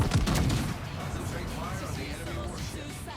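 410mm naval guns firing in World of Warships, a heavy booming salvo right at the start that rolls off into a rumbling decay, with someone talking over the aftermath.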